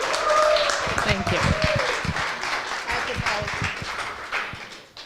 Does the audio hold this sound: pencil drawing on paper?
no